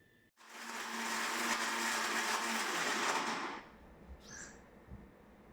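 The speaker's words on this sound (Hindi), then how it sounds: "तो इसको मैंने ग्राइंड कर लिया है और ये एकदम पूरी तरह से पाउडर फॉर्म में आ गई है।" Mixer grinder grinding fennel seeds and rock sugar into powder, a loud continuous whirring roar for about three seconds that then stops abruptly, followed by a few small clicks and knocks.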